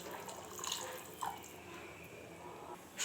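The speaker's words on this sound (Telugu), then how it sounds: "అందుకోసం ఇంకొక గ్లాస్ వాటర్ వేసుకోవాలి" A glass of water is poured into rice in a cooking pot while making biryani, giving a soft, quiet trickle and splash with faint clinks near the end.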